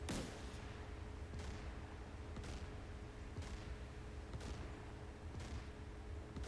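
Naval deck gun on a Ticonderoga cruiser firing in the DCS World combat simulator, booming shots repeating at a steady rhythm of roughly one per second over a constant rumbling background.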